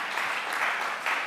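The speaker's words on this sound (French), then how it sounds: "son fan club peut applaudir bien sûr, parce que j'ai entendu que ça partait" Audience applause at a conference on tradition and change, steady dense clapping filling the whole moment with a few swelling peaks.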